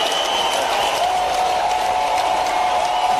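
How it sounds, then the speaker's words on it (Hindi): Dense, steady audience applause at a public government ceremony in Bhopal launching a sports campaign, a loud continuous wash of many hands clapping at once, with no speech over it. "जोरदार तालियां।"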